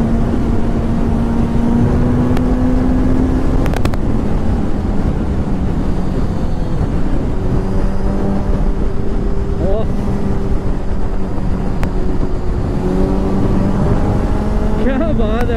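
A car drives along a busy ring road, its engine holding a steady droning hum with shifting pitch under constant wind rush, loud and close throughout.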